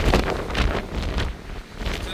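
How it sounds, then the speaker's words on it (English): Strong wind gusts across an exposed mountain ridge in the White Mountains on the Appalachian Trail. The gusts buffet the microphone loudly in a series of surges and lulls, with no voices. "Okay, it's got super windy up here."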